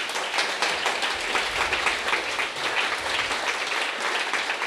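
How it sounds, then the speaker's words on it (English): Steady, dense applause from an audience after a presentation at a public talk on gentrification and neighborhoods, filling the whole span evenly at a constant, fairly loud level with no talk. "I just really wanna give another round of applause for Professor Visser's presentation"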